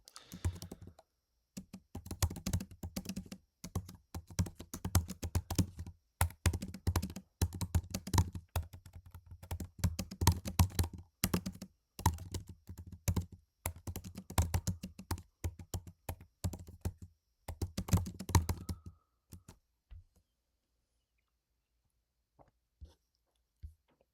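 Fingers type a prompt on a computer keyboard in rapid, uneven bursts of close clicks for about twenty seconds, then stop, leaving a few faint taps and near silence.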